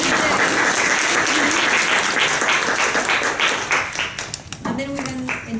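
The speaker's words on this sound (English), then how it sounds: "I want to start by giving an applause, and please join me, to our camera woman" Seminar audience giving a camerawoman a loud round of applause, dense clapping that fills the room and then thins out, with voices talking over it toward the end.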